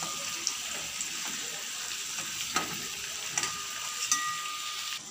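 Potato pieces fry in oil seasoned with salt and turmeric, giving a steady close sizzle with a few sharp crackles and pops scattered throughout.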